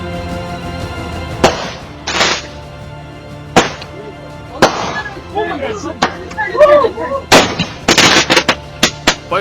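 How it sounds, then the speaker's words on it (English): Fireworks go off in a series of sharp, loud blasts spaced a second or two apart, followed by a rapid burst of crackling pops near the end. "that explosion looked like a blockbuster trailer"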